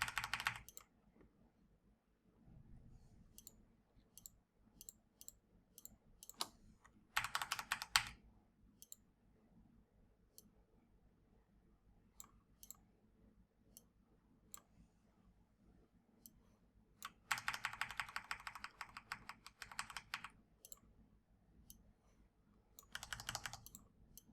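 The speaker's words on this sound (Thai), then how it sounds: "ใช้ลูกศรบนแป้นคีย์บอร์ดช่วยด้วย" Keyboard typing and arrow-key presses during Visual Studio 2022 programming work: quiet isolated clicks and short rapid bursts of keystrokes, close and dry, separated by near-silent pauses.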